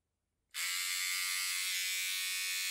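A Philips OneBlade electric shaver switches on abruptly after a brief silence, then runs as a steady, close high-pitched buzz with a constant motor whine.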